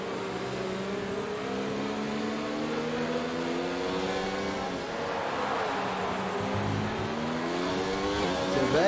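Race cars in an online racing sim at the Russian GP accelerate hard off a safety-car restart, their engines a steady, layered whine that climbs in pitch and builds toward the end, with no talk over it.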